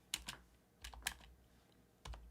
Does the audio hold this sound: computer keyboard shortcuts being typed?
yes